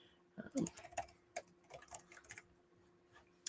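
Keys clatter on a split, angled ergonomic keyboard in short irregular bursts of clicks, fairly close and soft, with some quiet voice-like sound mixed in before the typing trails off.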